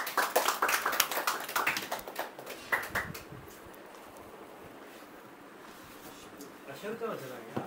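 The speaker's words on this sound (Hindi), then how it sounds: "दोस्तों की भरपूर तालियों में" An audience at a poetry gathering at Ayan Palace, Bahria Town, Lahore claps in a brisk burst of sharp hand strikes that thins and fades after about three seconds into room murmur and scattered voices.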